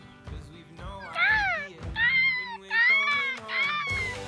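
Birds call at night in the Australian outback, a run of rising and falling whistled and chattering cries, fairly close and moderately loud, repeating in quick bursts.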